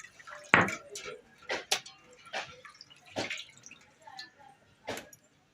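Raw chicken pieces for biryani are rinsed in water, giving scattered soft splashes, drips and wet squelches at an irregular pace, close and fairly quiet.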